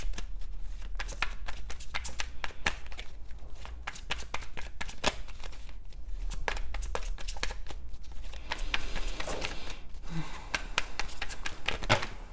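Repeated riffling and snapping of tarot cards being shuffled close by, in quick bursts with brief pauses, with faint movement noise beneath.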